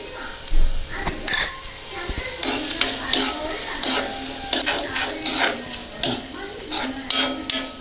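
Chopped onions and curry leaves sizzling in a pan for Kerala-style egg thoran, stirred with a utensil in repeated scraping, clinking strokes about every half second over a constant close frying hiss.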